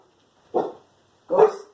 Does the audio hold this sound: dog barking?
yes